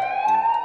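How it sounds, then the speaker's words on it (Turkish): An ambulance siren sounds as a steady sustained electronic tone, loud and close, heard alone. "Ambulans hastaları hastaneye götürürken siren çalar."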